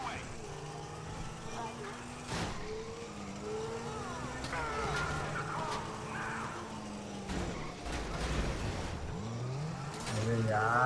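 Car driven flat out in a police chase video game with a helicopter overhead, a steady engine drone with rising revs and gear shifts. Someone talks excitedly over it throughout.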